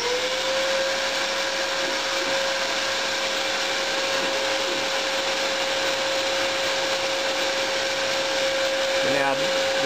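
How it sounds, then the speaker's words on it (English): A vacuum cleaner roars steadily at close range, cleaning up swarf, alongside a constant high whine from a CNC3040T machine, continuous throughout with a brief clatter near the end. "I'll turn on the vacuum cleaner as well to clean up some of the swarf."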